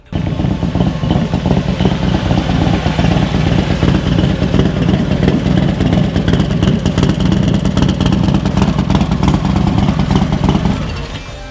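A Harley-Davidson Electra Glide bagger with an upgraded 124 ci big-horsepower V-twin runs loud and close in a steady, rumbling roar that holds for about eleven seconds before easing off at the end.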